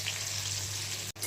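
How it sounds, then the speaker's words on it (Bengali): Food frying on a low flame for a dinner side dish, making a steady, dense sizzle close by that briefly drops out just before the end. "কিন্তু এটাকে আমি লো ফ্লেমে কিছুক্ষণ ভাজবো"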